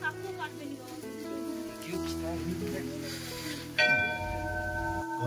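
A heavy temple bell at Baba Mandir on the East Sikkim mountain route gives one loud strike late on, and its deep ring hangs on to the end. Sustained tones and some background voices come before it.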